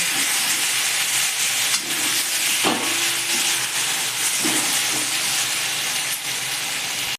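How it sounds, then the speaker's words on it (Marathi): Soya chilli stir-frying in a pan over a low gas flame gives a steady, close hiss and sizzle that runs unbroken, with a few faint scrapes and knocks of stirring. "थोडा वेळ गॅस बारीक करून परतू द्यायचं काम"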